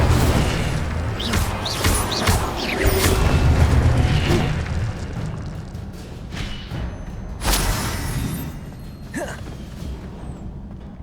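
Incendio fire spells cast in Hogwarts Legacy erupt as a run of loud whooshing bursts and booms over a rumbling backdrop, several sharp flares spaced across the stretch.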